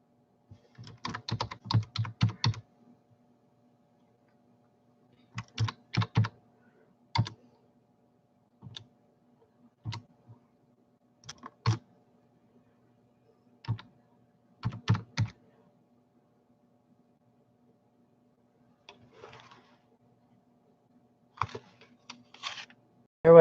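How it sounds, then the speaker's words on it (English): Keys are tapped on a computer keyboard in short scattered bursts separated by pauses, close and fairly quiet. "Bear with me. I'm typing."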